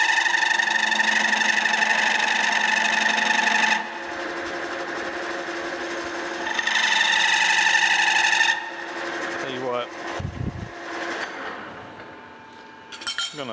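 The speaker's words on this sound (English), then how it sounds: "I'm just trying to put a nice little taper on there. Getting a little bit of chatter." A metal lathe turning a taper on a high speed steel pin, with a loud, steady tonal whine from tool chatter in two long stretches, then quieter clinks and knocks as the machine winds down.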